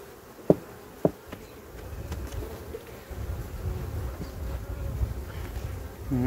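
Low, steady insect buzzing from a collapsing honeybee colony, with a couple of sharp knocks early on and a faint rising drone later.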